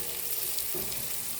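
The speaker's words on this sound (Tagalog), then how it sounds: "ginisa ko na sa butter yung garlic saka yung onion" Garlic and onion sizzle in butter in a pan with a continuous, close frying hiss, and a faint stir scrapes partway through.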